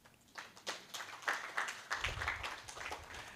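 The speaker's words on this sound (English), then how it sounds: "Let's clap for that." Scattered hand claps from a modest audience at an education technology stakeholders workshop in Ghana, starting sparse and building into a light, fairly quiet round of applause.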